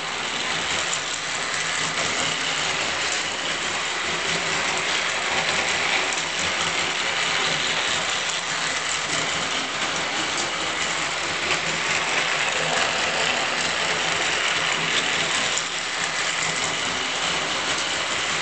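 An American Flyer S scale model train engine from a circus train set runs steadily, giving a continuous whirring, clattering mechanical drone at an even level throughout with no talking.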